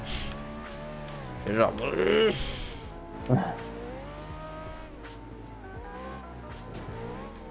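A car engine in a racing video game drones steadily with shifting pitch under continuous talk, and brief bursts of tire noise rise twice over it.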